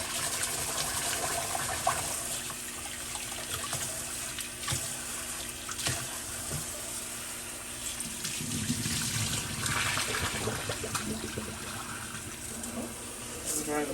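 Running tap water rinses rice in a sink, a steady broadband pour that continues throughout with shifting splashes, no talking heard.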